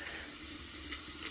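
Water runs from the steam wand of a Mr. Coffee espresso machine in a short, faint, steady hissing flow.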